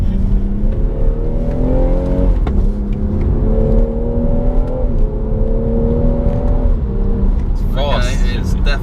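A BMW M240i accelerates hard with quick gear shifts, its engine note rising in pitch and dropping sharply at each change, loud and heard from inside the car, with a voice speaking near the end.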